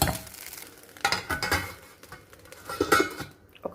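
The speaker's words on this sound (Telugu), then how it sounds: "ఒక లిడ్ పెట్టేసుకుందాం మనము." A lid is set on a frying pan while food cooks, giving a few metallic clinks and clatters against a soft sizzle, the loudest knock coming near the end.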